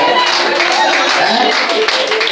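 A church congregation claps and acclaims during a prophetic worship gathering in Côte d'Ivoire, a dense continuous wash of applause with scattered voices mixed in.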